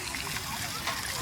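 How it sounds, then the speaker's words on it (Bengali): Water falls continuously from a park fountain, a dense, even splashing rush heard up close with faint voices behind it. "জলটা পড়ছে"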